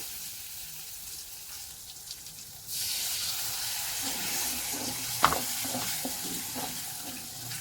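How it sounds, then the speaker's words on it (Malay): Water is poured into a hot pan, setting off a sudden, loud, sustained sizzling hiss with a few knocks and scrapes. "Jadi kita nak tambahkan sedikit je air ya."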